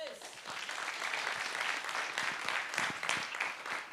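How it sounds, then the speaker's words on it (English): Audience applause at a fintech recruitment conference as a speaker is welcomed onto the stage: a continuous, full wash of clapping from a large crowd that holds steady throughout, with no voices audible. "and huge applause for him, please."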